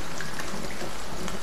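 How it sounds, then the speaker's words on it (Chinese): Heavy rain falling outside a mountain cave, a steady dense hiss with soft patter spread evenly across the whole moment, fairly loud and with no voices over it. "这么大的雨"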